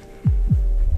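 A heartbeat sound effect thumps twice, a deep lub-dub pair of low pulses over a steady droning hum, close and loud with no voices.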